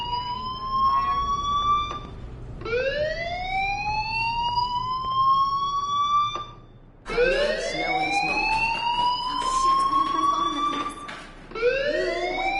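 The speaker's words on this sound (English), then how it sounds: "do you hear that fire alarm?" A fire alarm blares inside the video game Life is Strange Remastered, its rising electronic wail repeating in long sweeps separated by short breaks, loud and close with no talking.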